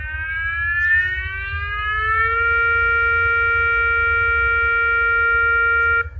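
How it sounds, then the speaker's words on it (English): A loud electronic alarm sound effect glides upward in pitch, then settles into a steady buzzing wail over a low hum, holding for about six seconds before cutting off. "That is the worst alarm sound ever."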